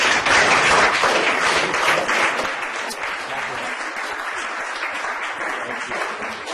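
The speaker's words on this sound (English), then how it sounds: "Give them one more round of applause" Sustained audience applause at a talk event, loud and dense at first and then easing slightly but continuing throughout, with many hands clapping together and no speech over it.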